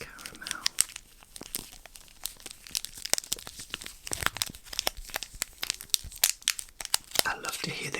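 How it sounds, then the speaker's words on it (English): Crinkly plastic wrapper of a Ritter Sport salted caramel chocolate bar being handled up close, with bursts of sharp crackling and rustling scattered through the whole stretch. "I love to hear the crinkles of plastic"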